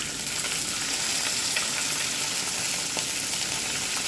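Green chilies hit hot oil in a pan for fish curry with onion, giving a steady, dense sizzle that fries on without pause.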